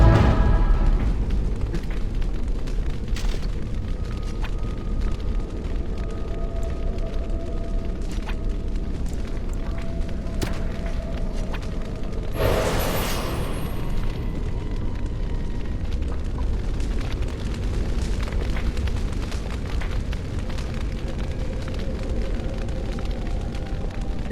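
Fire spell burning in Dragon Age: Origins, a steady loud roaring crackle of flames that holds throughout, with a brighter whooshing flare partway through.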